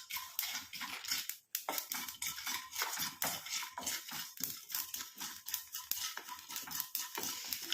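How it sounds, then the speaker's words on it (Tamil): Cloves frying and being stirred in a pan as part of a homemade hair dye preparation, a dense continuous crackling sizzle with repeated scraping strokes and a brief pause near the start, with no talking. "இப்போ இது ரெண்டையும் சேர்த்து நல்லா நம்ம ஃப்ரை பண்ணிக்கலாம்."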